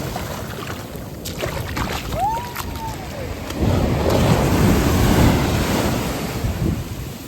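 Sea waves wash onto the shore at the seaside, a steady broad rush of surf mixed with wind buffeting the microphone, swelling louder about halfway through and holding there.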